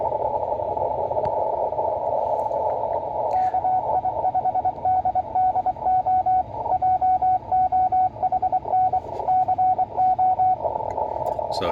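An amateur radio operator keying his call sign in Morse, a steady stream of short and long tone pulses over a constant hiss of radio static, with no voices.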